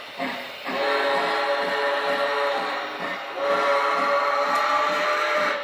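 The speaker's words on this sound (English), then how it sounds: "Now you can't quill the whistle," Lionel LionChief Plus 2.0 model steam locomotive sounding its whistle: a steady, loud, close two-part blast, with a brief dip near the middle and the chuffing engine sound running faintly underneath.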